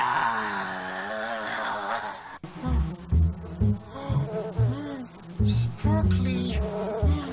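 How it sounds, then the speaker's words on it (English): Honeybees buzz from a hive in a cartoon scene, first as a steady droning hum on its own, then continuing faintly beneath animated character voices talking. "It's full of honeybees. Oh, that's where all this buzzing has been coming from."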